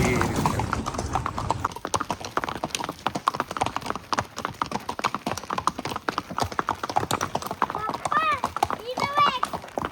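Horse hooves clip-clop in a steady, brisk rhythm close by at Matheran, with a horse whinnying near the end and voices faintly in the background.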